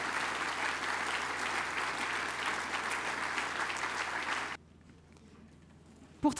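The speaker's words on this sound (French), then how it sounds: "Vous pouvez l'applaudir et le saluer." An audience at the Bastogne War Museum inauguration claps for Brett Cornwell in steady, moderate applause that carries on for about four seconds, then cuts off abruptly to near silence before a soft thump.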